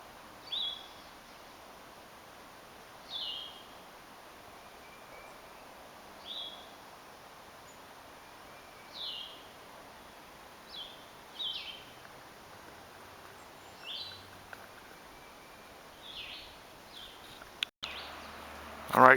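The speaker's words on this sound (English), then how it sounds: "listen carefully and you can hear a catbird in the distance" A catbird sings far off outdoors, its short faint calls repeating at intervals over quiet ambient background.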